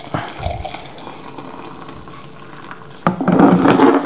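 Hot water pours from a tap or kettle into a cup for instant Nescafé coffee, a splashing stream that swells loudly in the last second after quieter kitchen sounds.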